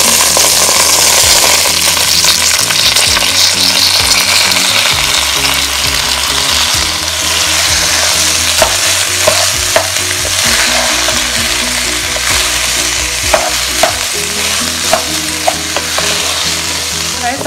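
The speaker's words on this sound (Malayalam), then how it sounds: "അപ്പൊ അരി ഇട്ടിട്ട് നമ്മളൊരു 5 മിനിറ്റ് ഇതിനെ ഒന്ന് വഴറ്റണം കേട്ടോ." Rice sautéed in a pan for chicken biryani, a loud close sizzle with constant stirring and occasional sharp clinks of a spoon against the pan.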